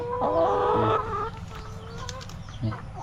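Chickens cluck loudly at close range on a farm where eggs are being collected, with a burst of calls early and softer clucks trailing off later.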